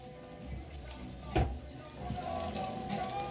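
Hash browns fry in a pan with a steady, moderate sizzle and crackle, broken by one brief louder knock partway through, with no talk.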